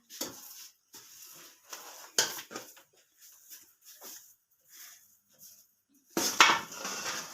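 A spoon scrapes and clinks against a bowl while cardamom powder is mixed into a rice ladoo mixture, in scattered short bursts with quiet gaps between.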